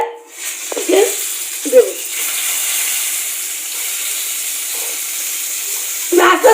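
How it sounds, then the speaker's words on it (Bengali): An egg fries in a pan with a loud, sustained sizzling hiss. A few brief clatters and short vocal sounds break in near the start and end. "ডিমটা ভাজা করে দেবো"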